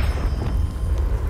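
A Confringo blasting spell in Hogwarts Legacy explodes into a deep, sustained rumble that stays loud and steady for over a second with no clear sharp crack at the start.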